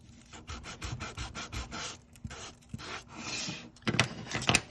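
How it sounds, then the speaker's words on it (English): Repeated back-and-forth rasping strokes of 240-grit sandpaper glued onto a wooden block, sanding a leather guitar pick case; close, steady rhythmic scrubbing with short pauses, then a louder burst near the end, no talking. "So start with the most rugged of the sandpaper. So this is 240 that I'm using."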